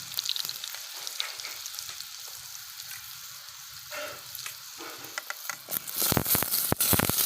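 Mustard seeds, cumin, garlic and turmeric frying in hot oil for a brinjal dish, a steady crackling sizzle with sharper popping and clattering bursts toward the end.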